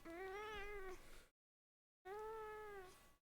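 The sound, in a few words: cat meowing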